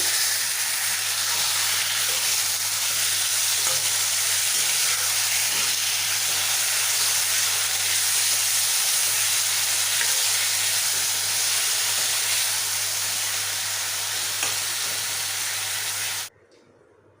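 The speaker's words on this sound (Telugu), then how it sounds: "బాగా ఫ్రై చేసుకోవాలి" Steady, loud frying hiss from marinated chicken in a pan, continuous and close throughout, cutting off abruptly near the end; no voices.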